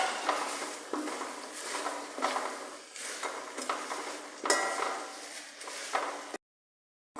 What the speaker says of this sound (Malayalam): ചെറുപയർ പരിപ്പ് ഇട്ട് അവിലിട്ട് നല്ലപോലെ ഇളക്കി